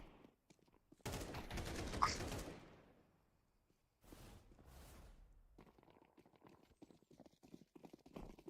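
Horse hooves clip-clop in a video game, a quick loud burst of rapid steps near the start, then faint scattered patter later, mixed with game noise.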